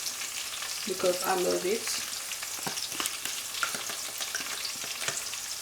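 Iru, fermented locust beans, dropping into a hot pot of vegan efo elegusi and frying with a steady sizzle and stir, joined by short scraping clicks, and a brief burst of a voice partway through.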